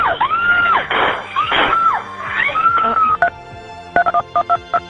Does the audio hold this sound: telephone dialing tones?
yes